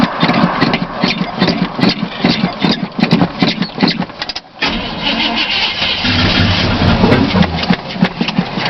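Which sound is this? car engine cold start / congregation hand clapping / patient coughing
car engine cold start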